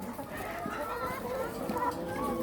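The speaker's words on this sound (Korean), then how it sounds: "바로 닭들이 와서 껍질은 바로 먹어버립니다" Chickens clucking close by as they peck at discarded raw eggshells, with steady low murmuring and rustling underneath.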